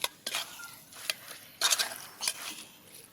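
A spoon scraping and clinking in a pan while chicken is stirred with chili powder for a Kerala-style chicken curry, with several short metallic scrapes in an uneven rhythm, close and moderately quiet.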